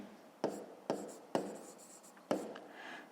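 Pen strokes on paper while working a grade 5 math problem: four sharp scratchy taps and short strokes spaced irregularly, quiet and close, with no speech.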